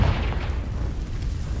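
A Confringo blasting spell detonates in Hogwarts Legacy, a loud deep boom opening into a rumbling low-heavy roar that lingers briefly.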